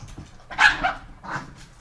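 A pet dog gives a couple of short, sharp yelping barks while going after a cat indoors, close and fairly loud, with no talking.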